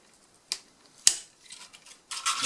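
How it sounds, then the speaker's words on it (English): Fine pliers snap through a small model aircraft part at a marked spot, giving two sharp, close clicks followed by lighter handling rattles. "taking a fine plier and cut them at the mark."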